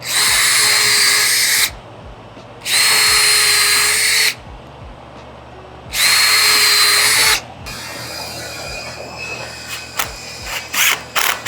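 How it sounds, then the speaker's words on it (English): Three bursts of a power drill whirring close by while drilling pilot holes and driving screws for pocket door top mount plates, each about two seconds long with short gaps, followed by quieter clicks and handling noises. "I'm just gonna drill the rest of my pilot holes and get the rest of these screws in here"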